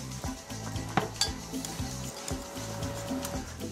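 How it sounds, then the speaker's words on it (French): Béchamel sauce for bouchées à la reine stirred in a pot, with rhythmic scraping of a utensil against the pan and light bubbling, close and moderately quiet, no speech. "Voilà, on remue."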